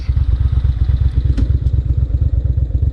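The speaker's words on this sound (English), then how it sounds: "Because you've got those two Ducati cylinders going up and down, there's a real rumble about her." A 2001 Ducati Monster 600 twin-cylinder engine rumbles loudly and steadily at idle, with an uneven throbbing pulse and clattery mechanical tone throughout and a brief click partway through.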